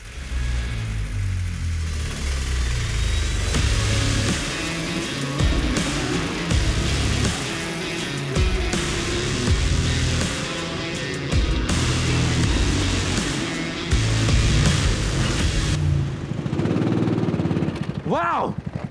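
A go-kart engine revs on a karting track, a loud, close, rough mid-pitched drone that rises and falls in repeated throttle surges, with a brief voice near the end.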